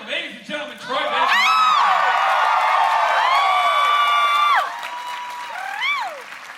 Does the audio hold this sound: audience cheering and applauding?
yes